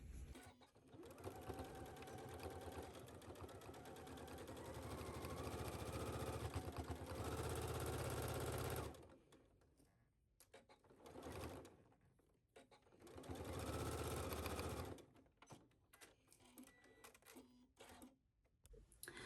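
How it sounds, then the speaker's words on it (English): A sewing machine sews a wrap skirt seam at 5/8 inch in long steady bursts of rapid mechanical stitching, stopping and starting again, close and fairly loud with quiet gaps between runs. "take this to your sewing machine and sew it at 5/8"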